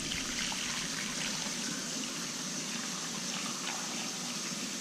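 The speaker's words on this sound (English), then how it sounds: "That takes exactly 1 teapot's worth of water." Hot water pours steadily from a teapot into a pot of cold noodle soup ingredients, a continuous close splashing trickle lasting several seconds with no talk.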